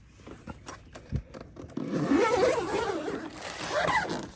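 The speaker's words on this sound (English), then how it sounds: "and there's a zipper" The zipper on the storage bag for a Jeep JL Freedom top panel is pulled closed nearby. It starts with a few short tugs, then one long, loud, continuous zip, with some clatter and rustling.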